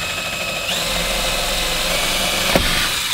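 A small bit in a handheld power drill whirs steadily as it bores little starter holes into fiberglass, one continuous close, loud run with a brief sharp catch near the end.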